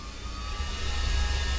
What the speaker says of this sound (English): We will start the engine using the compressed air from one of the onboard air cylinders